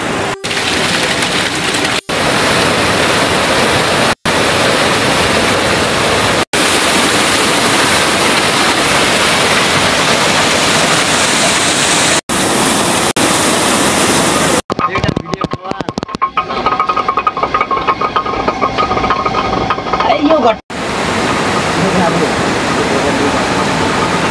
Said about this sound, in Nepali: यहाँ चाहिँ पानी घट्ट छ।